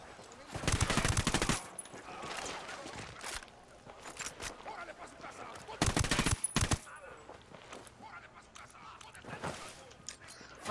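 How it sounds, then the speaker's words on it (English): Bursts of automatic gunfire in the tactical shooter game Rainbow Six, set in Bolivia, with two loud clustered volleys and scattered shots between them, plus faint footsteps and rustling. "Oh crap, stop shooting at me"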